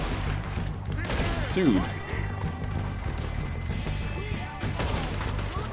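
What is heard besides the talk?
gunfire in video game Red Dead Redemption 2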